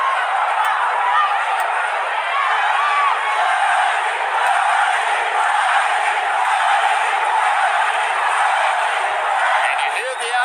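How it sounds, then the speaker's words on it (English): Crowd at a 2008 boxing fight between Manny Pacquiao and David Diaz, a steady wash of cheering and roaring that holds at an even level throughout, without clear individual voices standing out. "And you hear the adoration of the crowd."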